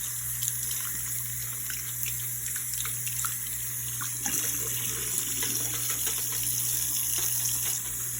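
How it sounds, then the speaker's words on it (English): A tap runs steadily into a sink while dyed clip-in hair extensions are rinsed under it, a constant close hiss of water with small splashing variations and a low steady hum beneath, no talking. "And then just rinse with a lot of water."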